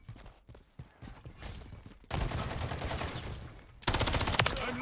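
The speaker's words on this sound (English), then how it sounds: "Taking effective fire!" Call of Duty battle gunfire: scattered distant shots and clicks at first, then two bursts of dense rapid automatic fire, the last loudest, with faint shouted voices mixed in.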